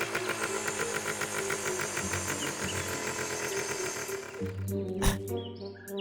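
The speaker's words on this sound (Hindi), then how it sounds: "आरी की आवाज सुनकर उन्हें लगेगा मैं पेड़ काट रहा हूँ।" A cartoon saw cutting a tree runs with a rapid, buzzing motor drone for about four seconds, then shifts to a lower, steadier hum broken by a single sharp knock.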